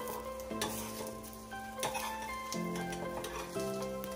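An omelette frying in a pan, with a continuous sizzle broken by a few sharp scrapes and taps of a spoon, while a faint tonal hum runs underneath.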